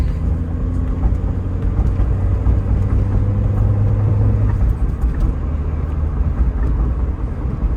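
A 1987 Honda Civic CRX Si engine drones steadily at close range while driving, a loud low rumble with road noise that holds constant throughout, no voices.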